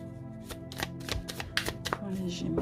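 Oracle de la Lune Noire cards being shuffled and drawn by hand, a close run of quick papery riffles and flicks with a few soft taps.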